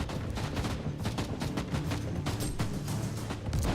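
Rapid, continuous gunfire from a weapon in the video game Warhammer 40000: Inquisitor, a dense, loud barrage of overlapping shots with no pauses across the whole stretch.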